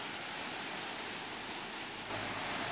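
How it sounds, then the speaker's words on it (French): The petrifying tufa waterfall in the Baume-les-Messieurs valley of the Jura pours over limestone deposits with a steady, dense roar, constant and close throughout. "Dans la reculée de Baume-les-Messieurs se trouve la cascade des Tufs, dite cascade pétrifiante."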